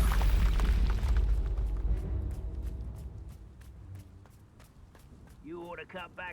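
A Confringo spell fires in Hogwarts Legacy, a heavy booming blast at the start whose rumble decays over a couple of seconds, followed by scattered combat thuds and footsteps and a brief voice near the end.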